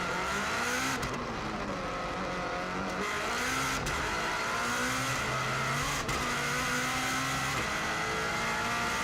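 A Subaru WRX STI race car at the Isle of Man TT, heard from onboard, engine roaring loud and steady, pitch rising and falling through gear changes as it accelerates hard along the road course.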